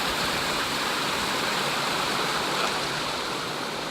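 Water rushes continuously in a steady, full hiss, like a creek flowing close by, with no other sounds breaking through.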